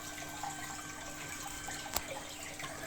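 Water runs steadily from a tap, a continuous soft splashing hiss with one brief louder clink partway through, no voices.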